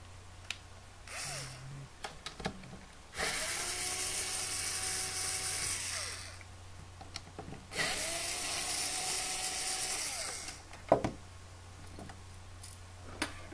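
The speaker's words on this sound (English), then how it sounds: "you want to start taking off your screws for your bottom plate, of course" A screwdriver removes the bottom plate screws of a Dirt Devil broom vacuum, heard as two sustained whirring bursts of a few seconds each, with quiet clicks and handling noises between them.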